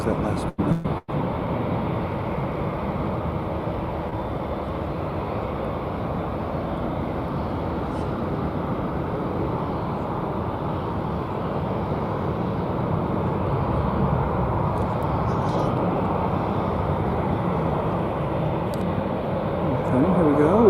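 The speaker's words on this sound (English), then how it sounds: "We're about to have our first Dreamliner of the afternoon." A Boeing 787 Dreamliner takes off at DFW Airport, its engines a steady broad roar that builds gradually over about twenty seconds, fairly quiet for a jet, with someone speaking over it.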